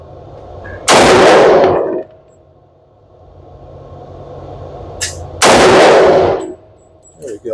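Two loud, sharp reports from a TISAS 1911 Carry .45 ACP pistol at an outdoor range, each a booming blast with a long ringing decay, separated by several seconds, with a faint metallic clink near the end.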